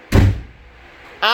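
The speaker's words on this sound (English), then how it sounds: "Ow, the door jammed." A jammed door bangs loudly once with a heavy thud, then a second knock-like impact follows about a second later.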